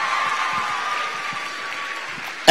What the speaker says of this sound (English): Everybody clap for the dancing students.